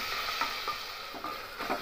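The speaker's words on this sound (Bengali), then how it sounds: "আদা রসুনের পেস্ট দিয়ে চিকেনটাকে একটু ভাজা ভাজা করে নেব।" Chicken fries with ginger garlic paste in hot oil, a steady hiss with occasional stirring scrapes, close and constant, no talking.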